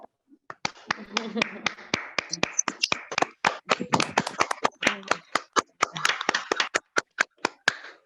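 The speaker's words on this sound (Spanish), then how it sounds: "y le demos un aplauso" Applause closing a theatre master's thesis defense on a video call, scattered individual claps from a few participants coming through open microphones, uneven and sparse, with overlapping voices cheering and talking throughout.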